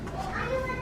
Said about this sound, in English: Excuse my kids, I can never make a video without them acting wild and crazy.